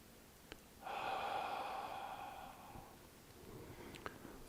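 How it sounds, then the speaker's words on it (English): A gentle open-mouthed "ha" exhale in qigong breathing practice, soft and airy like fogging a mirror, one steady breath lasting about two seconds, close and quiet with faint clicks before and after. "A gentle ha sound like you're fogging up a mirror."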